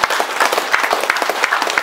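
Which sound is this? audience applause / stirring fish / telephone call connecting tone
audience applause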